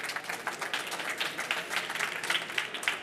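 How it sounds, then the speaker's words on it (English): Audience applause at a trade-fair stage session during K2022, a steady dense wash of many hands clapping throughout, moderately loud with no voices over it. "This is your applause."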